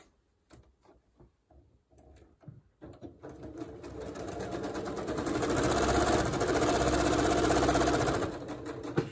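A sewing machine stitches a quarter-inch seam through quilting fabric, starting with a few slow clicks and short bursts, then running in a steady, fast mechanical whir for several seconds before stopping, close and alone.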